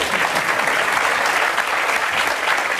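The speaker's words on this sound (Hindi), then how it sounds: "ताली बजा दीजिए आप" An audience at a talk on mobile phone hacking claps together in a loud, sustained, even burst that fills the whole stretch, with no speech over it.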